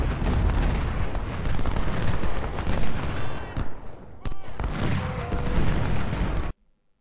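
Dense, continuous musket and cannon fire rumbles through a Civil War battle at Cedar Mountain in Ultimate General: Civil War, with heavy booms and crackling volleys that pause briefly once and then cut out abruptly.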